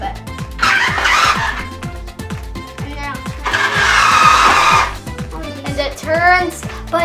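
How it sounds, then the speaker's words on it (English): A Project Mc2 H2O remote control toy car whirs and buzzes nearby with a steady rhythmic motor pulse that rises in louder bursts, while someone talks over it. "You just make it go forward a little bit."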